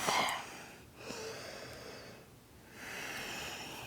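Deep yoga breathing during a flexibility stretching practice: two long, audible breath cycles through the nose and mouth, breathy and airy, close and quiet, with no talking.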